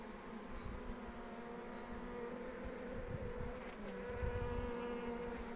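A steady, low buzzing of many Buckfast bees on a hive frame hums continuously, close and fairly quiet, with no talking.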